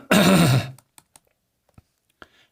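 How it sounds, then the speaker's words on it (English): A person clears their throat forcefully for about half a second, followed by a few faint, sparse clicks and small noises in an otherwise quiet room. "You hear it in my throat? All that coughing."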